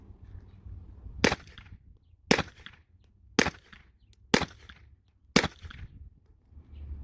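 Five suppressed firearm shots using 147 grain ammunition, sharp cracks evenly spaced about a second apart, each with a brief metallic tail, against a quiet background.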